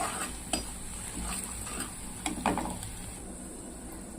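Onion and green chillies frying in a pan, close sizzling under sharp metallic scrapes and clinks of a utensil stirring against the pan at irregular moments.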